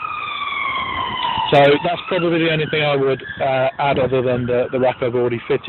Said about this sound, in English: Excuse the siren wailing in the back there.